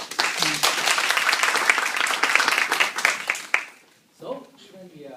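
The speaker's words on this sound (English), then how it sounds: "So give a big applause to your organizing team." A live audience applauds the organizing team at a club evaluation meeting, with dense sustained clapping for several seconds that cuts off abruptly, followed by a brief spoken voice.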